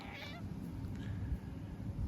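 A cat gives a short meow near the start, then a fainter second one, over a low rumbling background.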